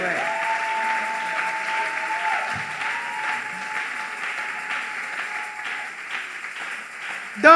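A church congregation claps at a lively Christian worship service, steady sustained applause with some voices underneath, holding at a moderate level before a sharp louder burst at the very end.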